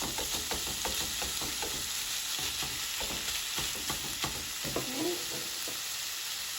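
Ground beef sizzles steadily in a hot pan while a utensil scrapes and breaks it apart with repeated clattering stirs, close and fairly quiet, without talking.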